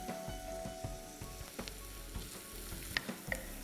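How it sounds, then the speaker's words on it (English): Shallots sauté lightly in a pan for lamb korma, a quiet, steady sizzle with soft rhythmic stirring scrapes and a few small clicks. "So we just saute it lightly."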